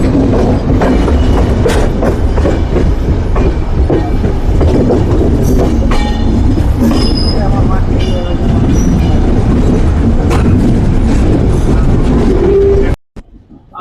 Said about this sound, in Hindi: डायमंड क्रॉसिंग से अपनी ट्रेन निकल रही है अभी